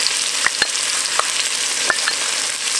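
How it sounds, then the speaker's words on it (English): One small chopped onion sautéing in melted butter over medium heat, a close, bright continuous sizzle punctuated by several sharp clicks and taps of a spoon stirring in the pan, no voices. "and let it saute for just a couple minutes until it begins to soften"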